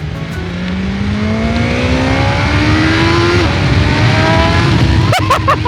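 BMW S1000XR motorcycle, a 2021 model, revving its engine up close, a steady loud drone with rising pitch sweeps, a sharp burst of higher revs near the end, a voice briefly underneath.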